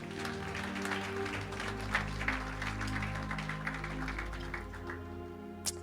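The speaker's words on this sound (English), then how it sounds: "Can we clap hands for the Lord?" A church congregation claps hands during a Sunday worship service, moderate clapping sounding under a sustained low musical drone and background hum.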